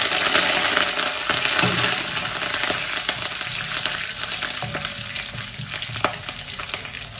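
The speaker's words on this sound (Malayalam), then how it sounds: "ഇനി അതിലേക്ക് നമ്മൾ കരിവേപ്പിൻ്റെ ഇലയും 2 വറ്റൽമുളക്" Curry leaves and two dried red chillies fry in hot oil for an Onam erissery, a dense close sizzle and crackle with scattered stirring scrapes and pops throughout.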